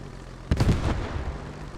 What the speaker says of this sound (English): See the Panzer 38s putting shots down onto the cap again there.